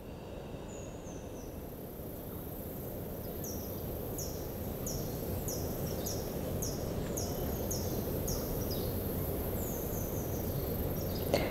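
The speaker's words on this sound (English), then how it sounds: "Listen to the birds around us here in Costa Rica." Several birds chirp and sing in short repeated phrases over a steady outdoor hum of insects, moderately distant and fairly quiet.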